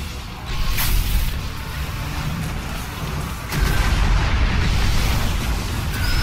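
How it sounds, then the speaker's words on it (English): A grenade blast in Destiny's King's Fall raid, deep booming rumbles and bursts layered in dense, continuous combat noise, with a louder surge partway through. "This is my grenade."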